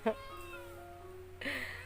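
Cat meowing in a village home, two short meows close by, the second rising and louder, over a quiet hum.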